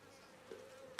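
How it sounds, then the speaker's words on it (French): Houseflies in an office give off a faint, steady, thin buzz with a small rise in the middle and a brief louder flick at the end. "Et les mouches, ce sont celles de mon bureau."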